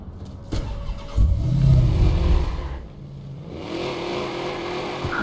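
A car engine in the video game Watch Dogs turns over and revs up, a loud low rumble swelling after a sharp start, then settling into a steady idle with a rising whine near the end.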